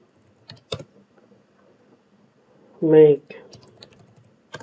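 A command is typed on a computer keyboard into a terminal, with a handful of sparse, crisp key clicks, nearby and quiet, as one spoken word briefly interrupts in the middle.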